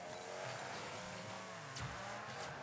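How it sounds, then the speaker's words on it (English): Car engines rev and whine in a Rocket League Dropshot match, with a continuous motor drone and a quick swooping sweep near the end, fairly quiet under the game mix. "Ooh, engine noises."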